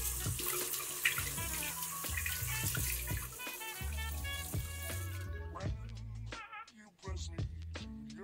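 Water runs from a tap over a hand to test how well an eyeliner resists water, a steady hiss that cuts off partway through, with music playing underneath.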